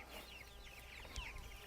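Meat chickens cluck and chatter continuously in an outdoor chicken tractor, a steady soft flock murmur with overlapping calls and no talking.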